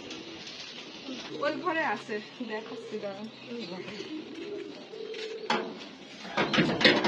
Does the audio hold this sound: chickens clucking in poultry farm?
no